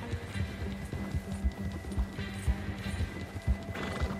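A horse in the video game Red Dead Redemption 2 gallops with rhythmic hoofbeats and lets out whinnies, moderately loud and alone without talk.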